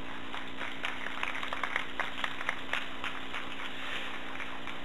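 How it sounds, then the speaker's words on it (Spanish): Scattered applause at a press conference for the 9th Morelia International Film Festival, a steady patter of hand claps that stays moderate and fairly distant for the whole stretch, with no talk over it. "Un aplauso, por favor."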